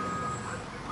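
A truck in the video game Mafia 3 hums with a steady engine drone and reversing-style beeps, loud and continuous over a short stretch, with no voices.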